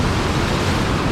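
Ocean waves surge against a rocky Australian shore during rock fishing, a loud, dense wash of surf noise with wind across the microphone.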